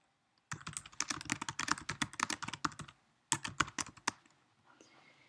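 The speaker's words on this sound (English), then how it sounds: "so I write my comment and click on the comment button." Rapid, close-up typing of a comment on a computer keyboard, a dense burst of keystrokes with a short pause, then a few more clacks trailing into quiet.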